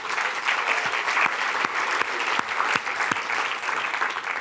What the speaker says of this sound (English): I think we should give a huge round of applause to the organizers